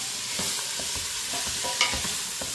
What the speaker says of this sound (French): Alors, on fait revenir le tout 5 minutes.